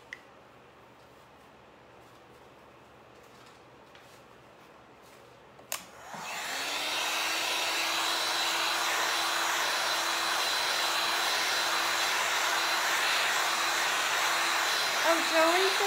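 A hair dryer switches on with a click and runs steadily, loud and close, blowing air over a freshly painted stenciled small harlequin table.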